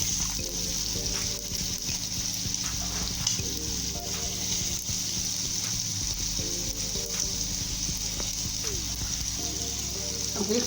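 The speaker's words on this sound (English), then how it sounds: "So I'm going to saute this, move it around." Aromatics and sausages sauté in hot oil in a pan for Nigerian fried rice, a steady close sizzle and crackle running unbroken throughout, with faint scraping as the food is moved around.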